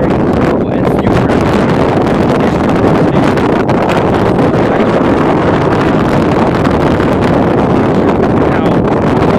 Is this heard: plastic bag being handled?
no